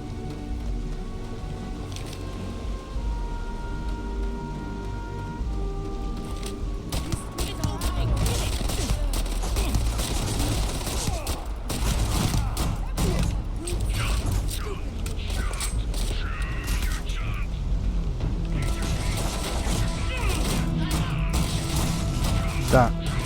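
Gunfire in Starfield rattles as dense crackling bursts and mechanical clatter through the latter part, with a voice speaking alongside and a musical tone at the start.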